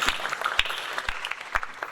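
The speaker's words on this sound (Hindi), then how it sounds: "ओके हम सिंचना के लिए जोर से तालियां बजाएं।" A small group claps for Sinchana, a child, in a short burst of uneven, scattered hand claps at close range, with no other voices.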